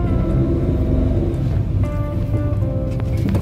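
2015 Daihatsu Ayla Type M reversing, a steady low engine drone inside the cabin with a faint whine rising over it toward the end.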